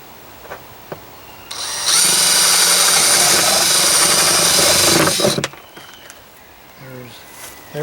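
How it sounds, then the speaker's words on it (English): A power drill whines loudly and steadily for about four seconds, drilling slowly into a plastic garden container, bracketed by quieter handling noises and light clicks before and after. "Drill it slow so you don't split out the plastic."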